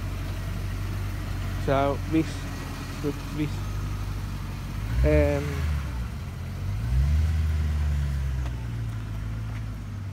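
A BMW E34 Touring engine idling low and steady, then revving up briefly as it pulls out, with people talking nearby over the engine.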